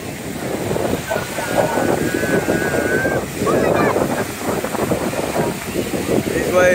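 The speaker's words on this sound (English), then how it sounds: "Waves, y'all, are nuts." Surf breaking on a Florida Gulf Coast beach roars steadily throughout, with wind buffeting the microphone and a person talking over the rush of water.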